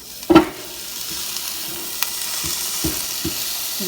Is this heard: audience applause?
no